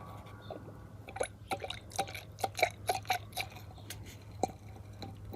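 Liquid stirred and then dripping during a mine dump sample test: a series of small, close wet plinks and ticks, irregularly spaced over a faint steady low hum.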